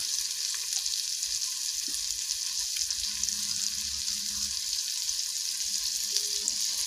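Ginger garlic paste fries in a pan, a steady moderate sizzle running throughout with faint occasional stirring noises and no voices.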